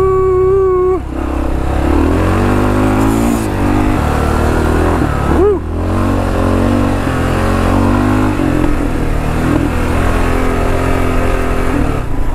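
A 2022 Kawasaki KLR 650 with an Eagle MFG fork brace rides off-road. Its single-cylinder engine drones loud and close with rising and falling revs, and wind buffets the rider throughout.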